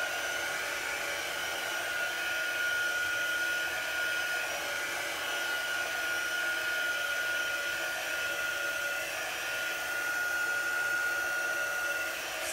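A hair dryer style heat tool blows steadily and close for the whole stretch, drying a layer of chalk paste on a Christmas craft piece, with an even rushing hiss and no pauses.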